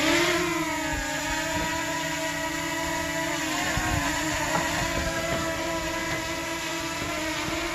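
A DJI Mini 2 drone lifts off and hovers nearby in windy conditions, its rotors giving a steady, close, high-pitched buzzing whine with layered tones that shift slightly.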